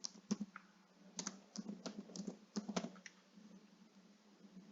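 A phone number is tapped out on a computer keyboard in quick bursts of light clicking keystrokes, close and quiet, with short pauses between groups of keys.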